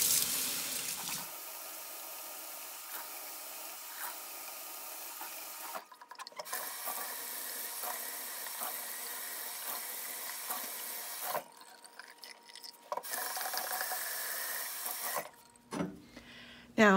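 A sponge is rinsed under running water at a sink while a ceramic slab box is glazed, with a steady tap flow and splashy interruptions, close and fairly loud, and no talking.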